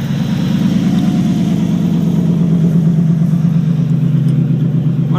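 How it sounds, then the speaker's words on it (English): A 1995 Chevrolet Camaro Z28 V8 idles cold around 1,000 RPM, its exhaust rotted off after the catalytic converter, giving a steady, loud, close low rumble with an even pulsing beat throughout, no voices. "big V8 purr, huh?"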